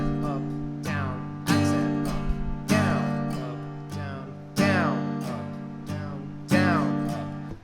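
Acoustic guitar strummed in a steady rhythm, with steady down-up strokes and a heavier accented strum recurring roughly every second, close and clear with no talk over it.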